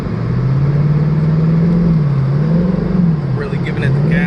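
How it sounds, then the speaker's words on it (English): A 2018 Mustang GT engine held at steady high revs as it tries to climb a snowy incline on Michelin X-Ice snow tires, a loud continuous drone wavering slightly in pitch. "Really giving it the gas now."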